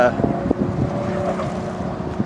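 Steady low rumbling wind buffets the microphone outdoors, a continuous blustery roar with faint background noise.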